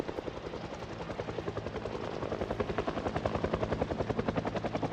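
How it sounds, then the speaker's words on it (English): A helicopter flies overhead with a steady, rhythmic rotor thump and broad engine roar, the beat growing gradually louder and more pronounced as it holds nearby. "the helicopter just like flies above you for a few minutes"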